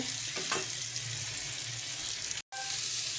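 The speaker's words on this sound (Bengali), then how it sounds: "এখন এটাকে সুন্দরভাবে উল্টে দেব। উল্টে পাল্টে ভেজে নেব।" Potatoes and eggs frying in a pan, a steady close hiss and sizzle with a brief cut near the end.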